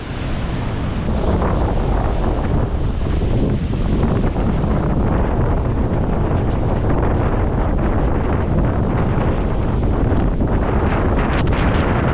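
Strong wind on a Scottish hiking route buffets the microphone in a loud continuous roar, gusting without pause.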